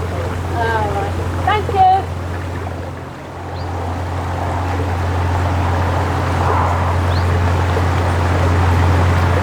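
A narrowboat engine runs at tick over on a canal in Shropshire, making a steady low drone throughout, with brief voices and outdoor noise early on.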